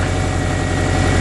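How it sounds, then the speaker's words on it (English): A VW T25 Vanagon engine idles with a steady, close, low rumble and vibration, continuous and even for about a second with no voices. "There you go, there's the engine running. Started her up."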